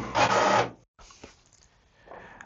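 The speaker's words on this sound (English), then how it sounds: "Now it's printing" An HP Envy printer runs off a diagnostics page, giving a loud burst of mechanical feed and print noise, then a pause and quieter clicks and whirring as the page finishes.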